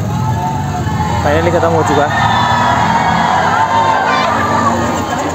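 A large, noisy crowd of fans mobs a car, shouting and cheering in a constant roar close by, with a voice talking over the din.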